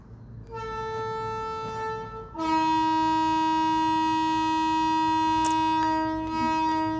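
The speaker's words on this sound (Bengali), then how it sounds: "ট্রেন চলে এলো" A train horn sounds close by in long sustained blasts, first at a lower pitch, then a louder, higher tone held for several seconds, with faint rumbling underneath.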